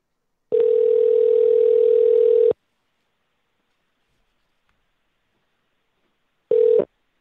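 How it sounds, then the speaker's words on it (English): A steady telephone dial tone sounds loud and clear once a call disconnects, holding for about two seconds, then silence, then a shorter burst of the same tone. Nobody speaks. "the phone disconnected."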